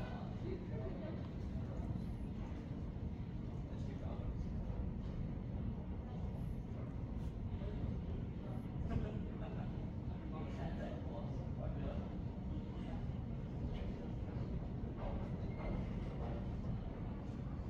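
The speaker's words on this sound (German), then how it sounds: "S3 nach Wien, Meidling und weiter nach Wiener Neustadt, Hauptbahnhof über Liesing fährt ein." An S-Bahn S3 train pulls into Wien Rennweg station as a steady, heavy rumble that lasts throughout, mixed with a spoken platform announcement.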